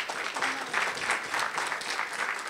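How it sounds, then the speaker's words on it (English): An audience at a nonprofit women's awards ceremony gives a hearty round of applause, loud, full clapping sustained evenly throughout with faint crowd murmur mixed in. "How about a big hand of applause for Induji, please?"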